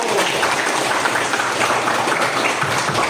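A classroom of students applauds during an Islamic jurisprudence lesson, a dense, loud burst of clapping close by that stays steady for about three seconds.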